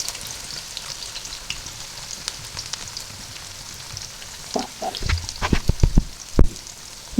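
Onions hit hot mustard oil in a pan for aloo chicken curry. A soft, steady frying hiss breaks into louder, spattering crackle bursts near the end, close up, with no talking.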